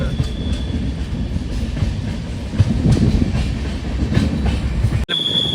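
Train crossing a bridge on the Mangaluru to Yeshwantpur line: loud, close rumble with rhythmic clatter of wheels over the track, steady throughout before a sudden cut.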